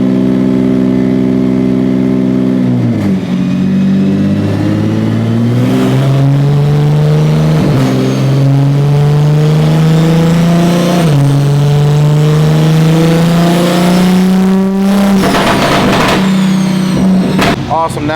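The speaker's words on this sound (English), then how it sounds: "We just kind of rolled the car on the dyno, get up to speed." A Mk5 Toyota Supra engine roars loudly and steadily on a dyno, its pitch climbing through gear changes as it revs hard and close, sustained for the whole stretch.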